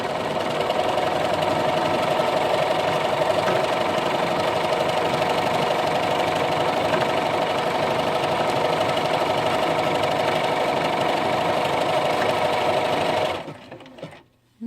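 Bernina Aurora 430 sewing machine stitching at about half speed, a steady loud mechanical whir and rapid needle clatter running continuously, then stopping abruptly near the end.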